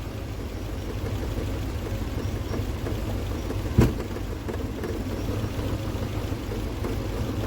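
A Triumph Spitfire engine with newly fitted electronic ignition and the choke pushed all the way in idles steadily nearby, a smooth low rumble with one brief click partway through.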